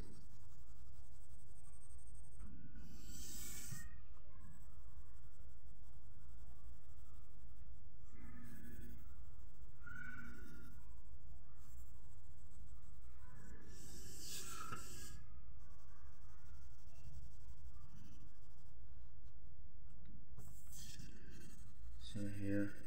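Pencil or marker drawing a unicorn's body on paper, with repeated scratchy strokes in short bursts throughout, heard close under a person's instructional speech.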